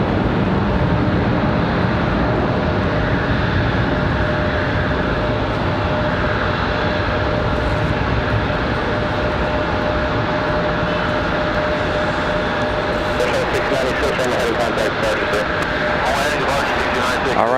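An Embraer E175 or E170 airliner taking off at Raleigh-Durham airport in snowy weather, a loud continuous jet engine roar filling the whole stretch with steady broadband rumble.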